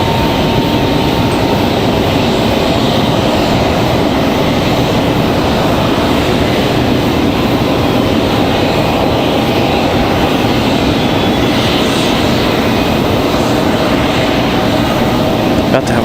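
JetBlue jet airliner from Boston at Raleigh-Durham airport, a loud, steady broadband engine roar that holds nearly constant for the whole stretch, close by and sustained without pause.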